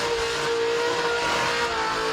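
A Ford burnout car in an open class burnout final holds its engine at high revs, a loud steady roar with a whining tone and slight dips, constant and close without speech.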